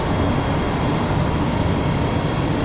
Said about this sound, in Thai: รถไฟกำลังจะออกนะครับ